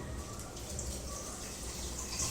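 Water poured into a biryani pot, a steady soft rushing stream running throughout at low level, close and continuous without talk.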